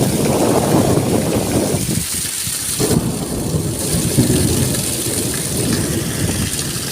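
Heavy rain falls steadily and loudly at Ban Khok Sa-at, a continuous dense hiss with a low rumble underneath and no voices.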